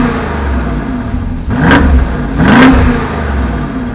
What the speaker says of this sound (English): get an exhaust clip so you can hear how that thing sounds